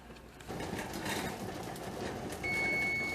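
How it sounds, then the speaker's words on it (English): A kitchen timer rings while green beans boil on a stove, a thin steady electronic tone that starts near the end over quiet kitchen background noise. "So the timer is going off."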